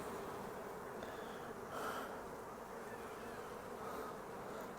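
Honeybees buzz in a dense, steady drone close by during a spring hive inspection, with no voices over the hum.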